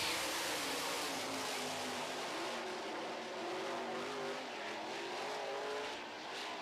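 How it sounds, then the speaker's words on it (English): Sprint race cars roar around a dirt track during a heat race, a loud continuous engine drone with shifting revving pitch and no talk over it. "Once again, Paul McMahon in the 45 car pulls away"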